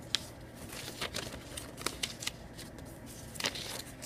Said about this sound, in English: you need to fold every single line that you see, whether it's dotted or straight